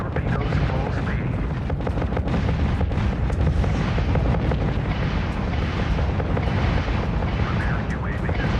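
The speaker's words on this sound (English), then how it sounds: "Auto turret is firing up." Automatic turret fire in the space-fleet battle game Infinite Lagrange, a dense, continuous barrage of booming shots and explosions at steady loudness, with a voice speaking over the combat noise.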